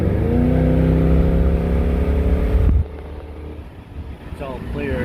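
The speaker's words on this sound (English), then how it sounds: "a couple wide open throttle pulls" A car engine after a Seafoam induction cleaning revs hard at wide open throttle, its tone climbing steadily and loud before abruptly dropping off to a lower idle-like hum.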